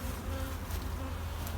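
Honey bees buzz in a steady, continuous drone around a beehive fitted with a queen excluder and honey super, with no talk over them.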